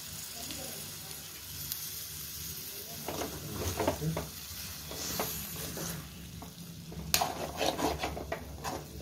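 Chicken liver pepper fry sizzles steadily in a pan, with intermittent scraping and stirring strokes rising over the continuous hiss and a few sharper clatters near the end.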